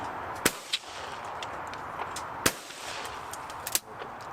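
Shotgun shots at clay targets on an outdoor shooting ground: a few sharp, distant reports spaced seconds apart over steady background noise.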